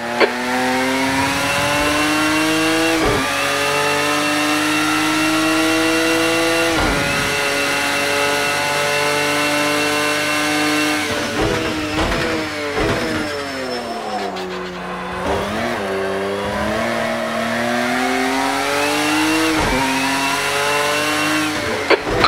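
Race car engine in Project Cars 2 screaming loudly through repeated upshifts and downshifts, with revs rising and falling as it brakes hard into corners, a locked front tyre squealing briefly, steady and close throughout.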